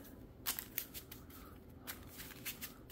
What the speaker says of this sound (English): Let me shuffle that.